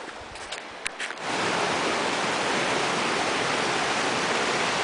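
The Slate River rushes over big smooth slabs of slate in the Colorado mountains near Crested Butte, a steady, close broadband roar of water that swells in suddenly after a second of quieter flow and then holds constant.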